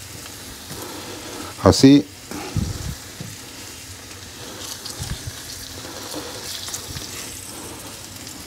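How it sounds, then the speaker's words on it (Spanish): Brussels sprouts going into a frying pan, a brief clatter and burst of sizzling followed by a soft steady fry, with a voice speaking briefly over it. "Entonces voy a llenar la sartén de Bruselas"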